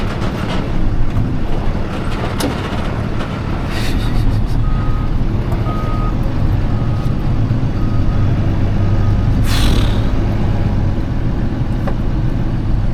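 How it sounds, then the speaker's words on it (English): An older boxy tow truck reverses aboard a ferry, its backup alarm beeping in a slow regular series over loud engine rumble and deck noise, with a brief hiss partway through. "It's a nice little tow truck."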